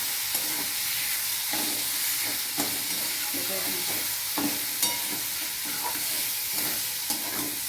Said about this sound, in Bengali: এই যে এটা একসাথে কষে নিচ্ছি, আঁচটা বাড়িয়ে দিলাম।